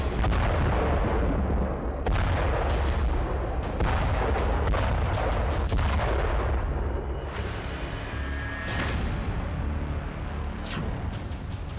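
Explosions and artillery fire in Gaza, a dense loud barrage of booms and cracking blasts rolling continuously with sharp reports layered over deep rumble, no voices.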